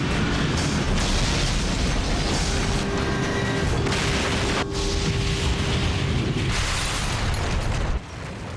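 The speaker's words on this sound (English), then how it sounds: "At 9:16 and 15 seconds, Flight 587 slams into the ground." American Airlines Flight 587 strikes the ground in a residential Queens neighborhood, a loud, sustained roaring blast with rumbling and crashing debris that fills the whole stretch before dropping off abruptly near the end.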